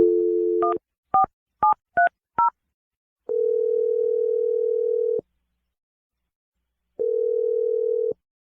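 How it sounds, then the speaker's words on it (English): A telephone number is dialed in a quick run of five separate keypad tones, then a long steady ringback tone lasts about two seconds, and after a pause a second ring follows, loud and close with no talking. "I'm going to dial her number right now."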